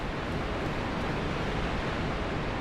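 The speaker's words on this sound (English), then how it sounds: "Must be like right above the waterfall." Waterfall in the video game Dark Souls: Remastered, heard as a loud, constant rushing roar of falling water with no break or variation, close and filling the space.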